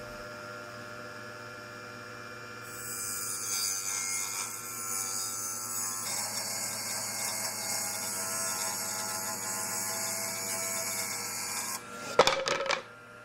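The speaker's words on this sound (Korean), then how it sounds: "직접 톱질을 하여 나무를 자르고" Steady rasping strokes of a hand saw cutting through wood for a miniature building's exterior wall, over a low electrical hum, ending with a few sharp knocks and clatters.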